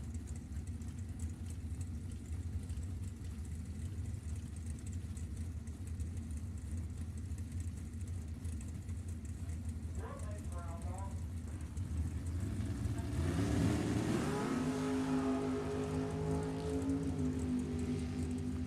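Drag racing cars, among them a 1964 Chevy Nova, sit rumbling at the start line, a steady low engine drone that swells into a rising rev near the end, with an announcer's voice over the top.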